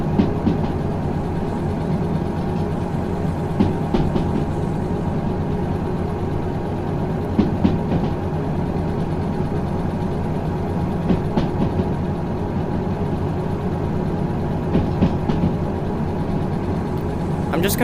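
Locomotive in the VR railway game Derail Valley rolls steadily along the rails, a constant dense low rumble and engine drone with faint periodic clicks of wheels over track joints, no talk.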